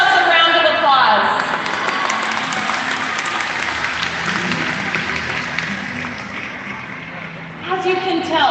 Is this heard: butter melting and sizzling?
no